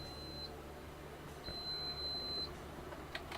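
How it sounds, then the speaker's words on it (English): A UPS battery backup beeps from a power overload. One short high tone is followed a second later by a longer tone of about a second, both faint over low background hum. "it just starts beeping saying, too much power drain, too much"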